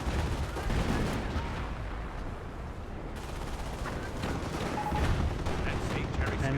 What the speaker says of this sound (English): 25-pounder barrage